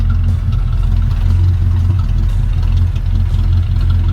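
A 1953 Ford Crestline Victoria flathead V8 with full dual exhaust and turbo mufflers idles steadily with a deep, mellow rumble and even pulsing exhaust, loud and close, no other sounds.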